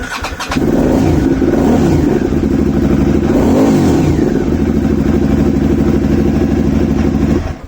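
A Honda CBF1000 motorcycle on a cold day with a freshly charged original battery starts with a short crank, then settles into a loud, close steady engine note that swells with a blip of the throttle before cutting off.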